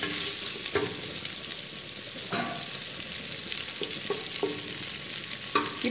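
Onions sauté in a pan under a steady, moderate sizzle, with occasional clinks and scrapes as they are stirred.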